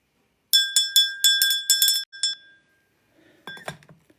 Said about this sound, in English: Let's ring that bell, Sagittarius.